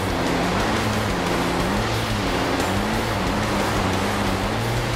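Rally car splashing through water in the Dakar Desert Rally video game in rain and fog, a steady loud rush of spray and surf-like noise over a droning engine, continuous throughout with no talk.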